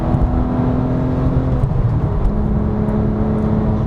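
A 2008 Porsche 911 GT3 (997) with its 3.6-litre Mezger flat-six revs hard out of a corner, a loud, steady rising engine roar with harmonic whine held close and continuous throughout.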